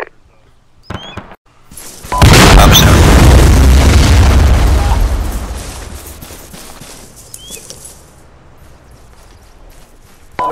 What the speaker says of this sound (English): Any update on that explosion?